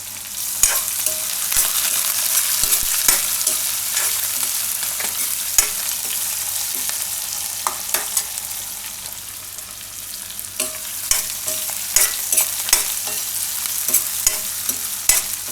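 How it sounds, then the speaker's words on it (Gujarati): Asafoetida, onion and curry leaves fry in hot oil in a pan for a Gujarati bread upma, a steady sizzle running throughout with scattered scraping clicks of stirring, fairly close and without talk. "થોડીક આપણે હિંગ નાખીશું અને ડુંગળી નાખી દઈશું અને લીમડાના પાન નાખી દઈશું"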